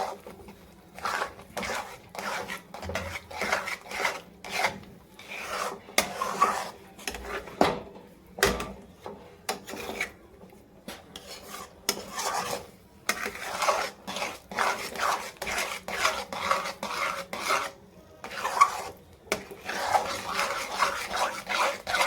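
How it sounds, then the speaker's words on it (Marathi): Ghee being mixed into a beetroot barfi mixture in a pan, with repeated scraping and clinking of a spoon against metal in an uneven, steady rhythm, close and moderately loud, with no talking. "हे बघा हे तूप पण आपण छान असं मिक्स करून घेऊ"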